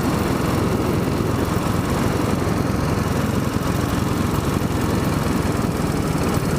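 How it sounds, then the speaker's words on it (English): A Royal Enfield Bullet 500 motorcycle idles with a steady, rough, thumping exhaust chug, close and continuous, with no talking. "Not sure what the sounds of the exhaust are going to be like."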